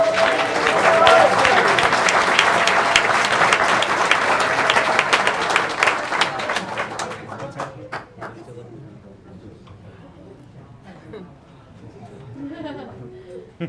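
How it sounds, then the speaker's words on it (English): A big round of applause fills a school board of trustees meeting, loud sustained clapping from the room for several seconds before fading into scattered claps, with a voice speaking as it dies down. "another big round of applause."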